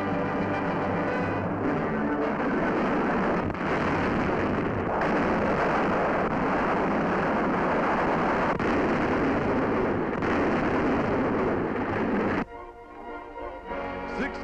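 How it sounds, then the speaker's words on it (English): U.S. artillery fire at the Nazi-held Bizerte naval base, heard as a dense, roaring wartime newsreel soundtrack of continuous booming and blasts, loud throughout before dropping away near the end. "Lake Bizerte, U.S. artillery reduces the Nazi-held naval base."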